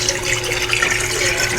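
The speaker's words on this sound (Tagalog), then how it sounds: "Lagyan po ng 5 cups na tubig." Five cups of water poured into a large cooking pot holding pork belly, a steady close splashing flow throughout.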